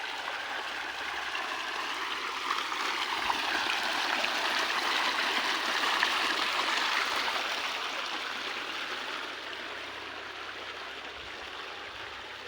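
Irrigation water pours steadily into a millet field in a continuous broadband rush, close and even, with no voices over it.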